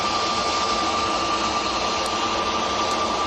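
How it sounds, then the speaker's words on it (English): An EasyJet Airbus A320 lined up on the runway at Manchester Airport, its jet engines giving a continuous broadband roar with a steady whining tone, alone at moderate distance. "EasyJet, which is lined up, is going to Alicante down in Spain, Airbus A320."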